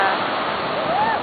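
Surf at Copacabana beach rolls as a steady broadband wash of breaking sea waves, fairly loud and continuous, with a voice talking faintly over it.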